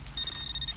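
A metal detector gives a single short, high electronic beep while sweeping the ground on a treasure hunt, close and clear over faint background noise.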